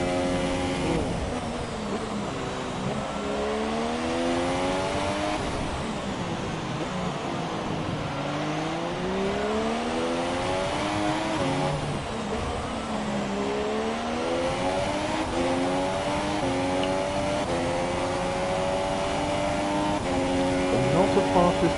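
F2 race cars in the F1 2017 video game at the Mexico circuit, engines whining steadily and sweeping up and down through gear changes and corners, continuous and loud, with a commentator talking over them.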